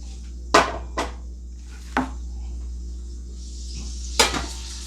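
Sausage frying in a pan alongside potatoes and vegetables, a steady low sizzle broken by a few sharp clinks and scrapes of a utensil against the pan, with no talking.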